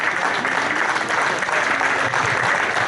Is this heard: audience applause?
yes